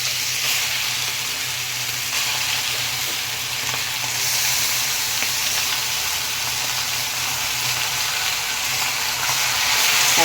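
Taro leaves fry loudly in hot oil with nigella seeds and dried chillies, a steady dense sizzle that holds without a break for the whole stretch, close and alone with no voices.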